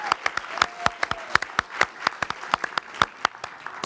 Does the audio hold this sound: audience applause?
yes